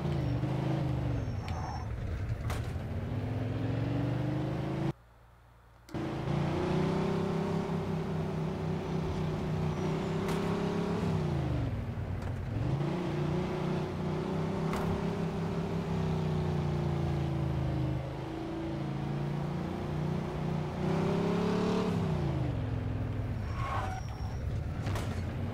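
A car driving through the streets in the game Mafia 2, its engine drone rising and falling steadily and fairly loud, with one brief dropout partway through.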